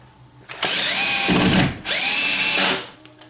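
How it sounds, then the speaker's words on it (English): Power drill driving screws to mount a floating bookshelf into a wall stud and anchor, two loud sustained whirring bursts with a brief pause between them, no talking. "So we've screwed on our shelf."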